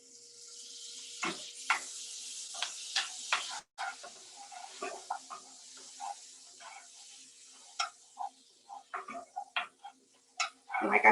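Butter sizzling in a cast iron pan, a steady soft hiss broken by scattered crackles and the repeated scrape and tick of a utensil stirring close by.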